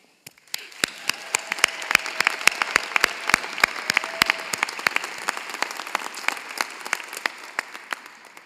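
Applause from the audience at a university public health spring commencement ceremony: many distinct, sharp hand claps ringing out in a steady stream for several seconds, with no clear cheering.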